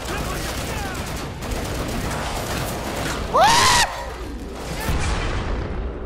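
Grenades burst repeatedly in the video game Killing Floor 2, a steady chaotic rumble of explosions and gunfire with a short whistling shriek midway and people talking over the din.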